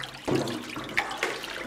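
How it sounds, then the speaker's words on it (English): Hot water at 55 degrees poured into a vat of curds while making Gouda cheese, a splashing, running-water pour that starts abruptly and continues with a couple of brief louder sloshes, close by and alone. "So we add 33 litres of water at 55 degrees."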